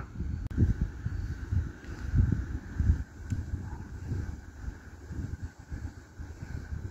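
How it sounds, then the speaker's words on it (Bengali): Gusty mountain wind near the Sinnes waterfall in Sirdal, Norway, buffets the microphone in low rumbling bursts, rising and falling unevenly throughout with no clear voices. "খুব হাওয়া চলছে, খুব হাওয়া চলছে"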